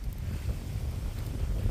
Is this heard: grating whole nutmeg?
no